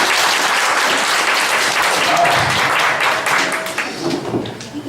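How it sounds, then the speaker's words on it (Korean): A church congregation applauds together during a worship service, a loud, dense, sustained wash of clapping that holds steady throughout and eases slightly near the end. "다시 한번 주님께 영광의 박수를 올려드리겠습니다"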